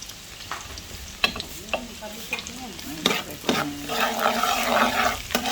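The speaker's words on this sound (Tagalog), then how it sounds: "magigisa na tayo guys with annatto oil para maganda yung kulay niya" Annatto oil sizzling and being stirred in a pan for Ilocano-style bopis, with scraping stir strokes and a steady frying hiss that swells louder toward the end.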